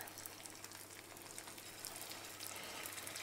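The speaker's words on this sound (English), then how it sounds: "I can see that it's sizzling nicely" Garfish fillets frying in hot oil, giving a steady close crackling sizzle with dense fine pops and no talking.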